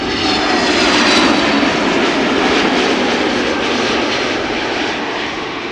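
An Aer Lingus airliner arriving at Amsterdam Schiphol Airport, its engine roar loud, broad and continuous, swelling slightly early on and then easing a little as it passes.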